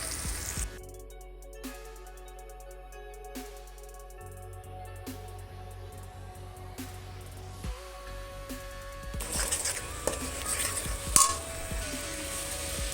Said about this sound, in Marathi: आता आपण थोडंसं तेलात फ्राय करून घेऊया.